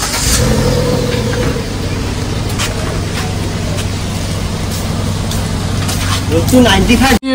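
A car engine idles steadily and loudly close by, its low rumble continuous throughout, with a brief rev near the end; a person talks over it.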